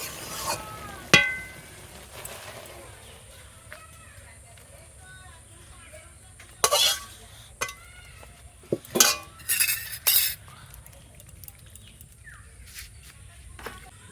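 A pot of potol (pointed gourd) and shrimp curry is lifted off a village stove, with a few sharp metallic clinks and scrapes scattered through an otherwise quiet stretch.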